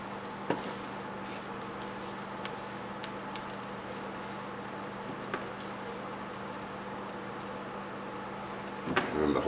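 Fajita steak quesadilla cooking in a pan, a faint steady sizzle with light crackles and a few soft clicks, growing louder and busier at the end.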